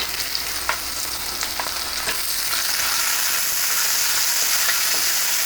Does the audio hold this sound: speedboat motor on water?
no